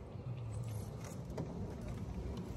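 Road traffic on a street in Canada passes beside a rented car, a faint continuous low rumble of vehicles with no voices.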